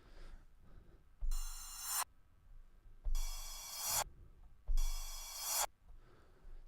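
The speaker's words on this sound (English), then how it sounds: "And a simple reverse cymbal would sound like this." A reverse cymbal effect plays three times in succession: each one is a bright, noisy cymbal wash that swells in loudness and then stops abruptly, separated by short quiet gaps.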